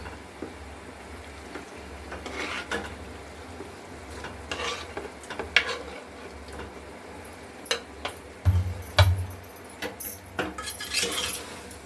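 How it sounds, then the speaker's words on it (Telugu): Chicken fries with masala spices in a pan, a low steady sizzle under repeated metallic scraping and clinking of a spoon stirring, close and moderately loud, with no voices. "బాగా దీంట్లో మసాలాలు అంతా బాగా వేగనివ్వాలండి చికెన్ని"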